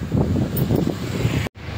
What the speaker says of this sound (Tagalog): Presko yung hangin, tagusan kasi ito.